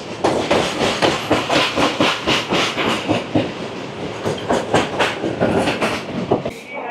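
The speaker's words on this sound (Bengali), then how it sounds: "রানীগঞ্জ আর আসানসোলের মাঝে আমাদের এই ট্রেন ননস্টপ চলবে 19 কিলোমিটার" The Jammu Tawi Express running nonstop between Raniganj and Asansol, with a loud, rhythmic clickety-clack of wheels over rail joints at a steady pace and a continuous rushing roar underneath.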